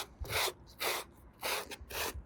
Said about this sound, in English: it's at least roughing it up to where I might be able to get it with my scraper